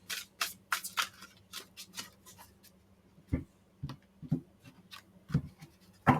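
Tarot cards being shuffled by hand, a series of soft riffles and slaps in irregular bursts, close and quiet.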